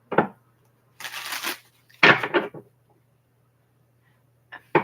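Tarot cards being shuffled by hand in a few separate bursts of riffling and sliding, close and fairly soft, with quiet pauses between them and no talk.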